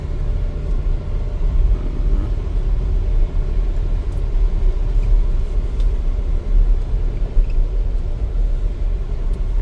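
A new car drives along a rural village road under construction, heard from inside as a steady, low engine and tyre rumble with no talk.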